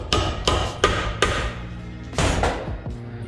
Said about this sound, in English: tap on them with a hammer, like from the top or with an extension really hard